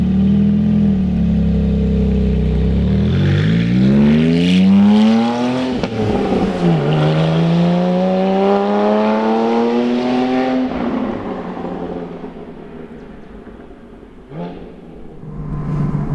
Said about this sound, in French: il y a vraiment une présence moteur géniale avec la ligne Akrapovic posée par Shiftech